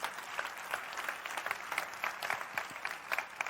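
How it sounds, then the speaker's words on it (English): Keynote audience applauding in a large hall, dense steady clapping from many hands throughout, moderately loud and continuous with no talk over it. "round of applause for our partners for helping make this possible"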